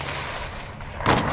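An RPG rocket blasts in Call of Duty Modern Warfare II amid a sustained din of gunfire, a sudden loud boom near the end of the brief moment.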